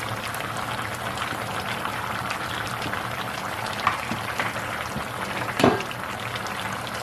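A pot of Nigerian party egusi soup bubbling and sizzling as fried fish goes in, a dense continuous simmering hiss with a few soft plops and clinks, close and steady with no talking.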